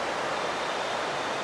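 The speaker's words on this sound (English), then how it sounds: "I just hope you can hear the sound of the water running" Mountain stream water rushing downstream in the Himalayan hills near Dharamshala, a steady, dense, close broadband roar with no breaks and no voices.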